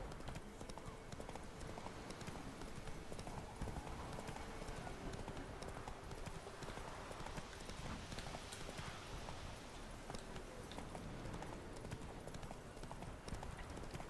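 A horse galloping in the video game The Witcher 3, hooves clip-clopping in a steady rapid rhythm, loud and continuous against a dense game soundscape.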